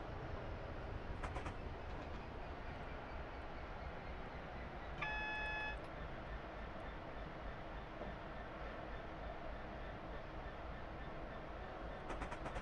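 Suburban Glasgow rail scene with a train bound for Balloch standing at a station platform, a steady low rumble and hum throughout, a brief electronic beep chime in the middle, no speech.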